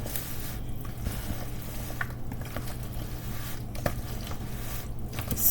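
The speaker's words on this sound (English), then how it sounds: "I'll stir this up real gentle." Potato salad being gently stirred in a bowl, giving soft, wet squishing and scraping that runs steadily under a low background hum, with a few brief clicks of the spoon.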